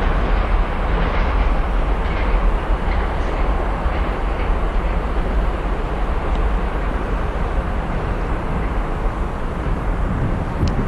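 Class 66 locomotive 66741 passing Werrington Junction, a loud, steady broadband rumble that stays strong for the whole stretch with no pauses.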